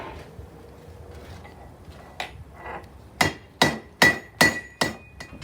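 A blacksmith hammers hot steel on an anvil while forging a taper, striking a series of six ringing metallic blows in a steady rhythm after a few lighter taps, close and loud.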